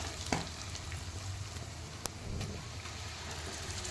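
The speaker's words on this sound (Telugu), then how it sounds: "అవి కూడా వేసుకుని కొంచెం ఫ్రై అవ్వనివ్వాలి" Quiet, continuous sizzle of onions and green chilies frying in oil, with occasional clicks and a low background hum.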